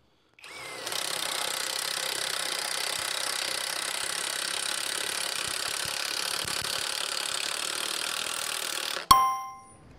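Top Shack impact driver at full power drives a carbide-tipped masonry bit, giving a steady loud whirring, rattling drone for about eight seconds that stops abruptly with a short metallic ring.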